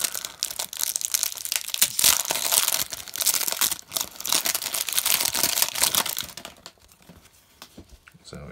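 Crinkling and tearing of a 1987 Topps cello pack of baseball cards, busy plastic crackle for several seconds that fades into quieter rustling near the end.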